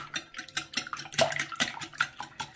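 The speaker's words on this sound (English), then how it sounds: "these are my 4 eggs and I'm just going to whisk them." Four eggs being whisked by hand in a bowl, a quick run of rhythmic clinking and tapping strokes at close range, with no voices over it.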